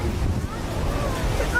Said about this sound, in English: When lava at hundreds of degrees pours into the ocean, huge columns of steam appear.